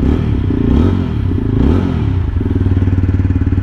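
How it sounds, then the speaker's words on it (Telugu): A TVS Apache RTR 160 4V motorcycle, a 2025 model, starts and settles into a steady idle. Its exhaust note pulses loud and close with a rhythmic thump, with no talking over it. "ఇంతకీ దీని ఎగ్జాస్ట్ నోట్ వినలేదు కదా, ఇప్పుడు ఎగ్జాస్ట్ నోట్ విందాము."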